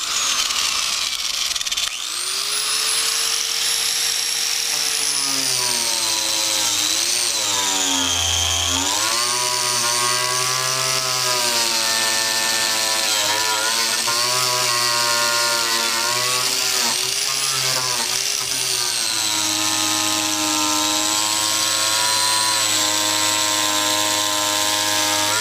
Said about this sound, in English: I'm gonna be using a wire wheel with my grinder